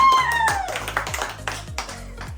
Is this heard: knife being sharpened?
no